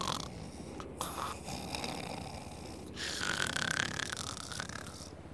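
Snoring from a man in GTA 5 with a real-life mod, a steady rasping drone repeating over several seconds at moderate loudness, with no talk over it.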